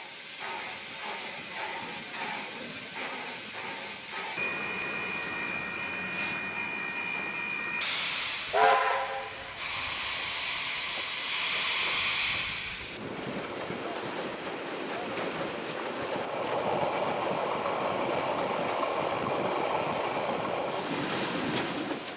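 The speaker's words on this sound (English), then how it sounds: "The train pulls into the station at the start of our second day" A train pulling into a station on a former railway yard site, with steady rumble and hiss, a brief squeal of brakes midway, and clattering movement building as it slows nearby.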